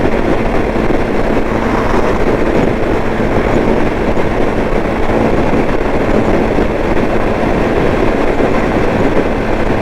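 A motorcycle cruises at 80 mph on an interstate highway, its engine turning a little over 5,000 RPM behind a windshield. It makes a loud, unbroken roar of wind and engine drone that holds steady for the whole stretch, with no talking.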